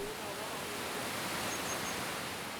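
Steady broadband rush of a waterfall at a Shinto site in Japan, continuous and fairly loud with no breaks, heard alone.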